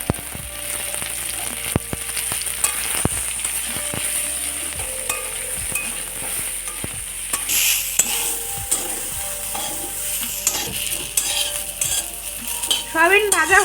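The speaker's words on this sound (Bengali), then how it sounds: "এবার আমি সয়াবিনটা দিয়ে দেব।" Soybean chunks frying in hot mustard oil with turmeric in a heated wok, crackling and sizzling steadily, with a spoon scraping and stirring the pan throughout and louder bursts of sizzle toward the end.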